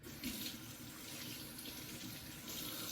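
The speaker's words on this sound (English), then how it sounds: "But let's add just a baby bit of water." Water runs steadily from a tap into a sink while a shaving face lather is being mixed, a continuous hissing stream at moderate level with no voices.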